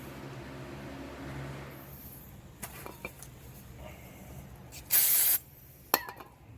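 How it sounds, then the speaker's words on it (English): Carb cleaner sprays onto the carburetor of a Generac GP150000E generator: a loud, close hiss bursting for about half a second, with a few shorter spurts and small clicks around it, over quiet workshop background. "just hosing it down with some carb cleaner will work pretty good"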